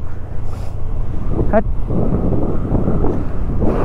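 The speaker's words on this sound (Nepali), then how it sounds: "हावाले उडाउला जे गरेर बाइकै उडाउनु खोज्ने" Loud gusting wind near Kagbeni in Mustang, Nepal, roars continuously across the microphone, with a brief sharp tonal chirp partway through.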